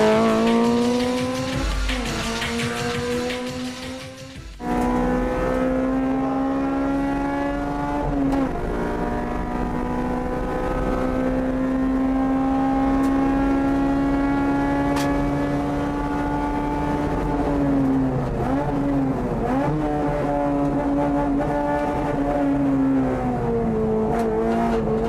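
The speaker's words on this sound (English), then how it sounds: "is a Group N Racing Integra R built by Spoon Sports" A Spoon Sports-built Honda Integra Type R Group N race car is driven hard, its engine note loud and close. After an early lift it revs up through long sustained pulls, with brief dips where it shifts gear or lifts off.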